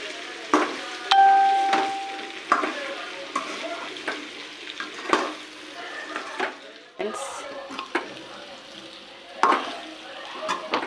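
Chicken fries in a pan with chilli powder, coriander powder and garam masala, making a steady low sizzle. A spoon stirs and clinks against the pan now and then, and a voice is faintly present.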